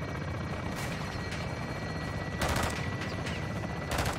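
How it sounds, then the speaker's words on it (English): Belt-fed machine gun fire in Modern Warfare II, heard as sustained distant rattling bursts over a constant roar of battle ambience, with louder volleys toward the middle and end. "Taking belt fed fire from beneath the tower"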